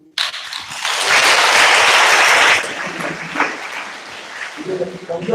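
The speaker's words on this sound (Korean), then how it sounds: "마지막으로 박수로." Audience applause at a Korean Seonmudo academic conference on meditation and yoga, a burst of clapping filling a hall for about two seconds before fading into murmuring and scattered voices.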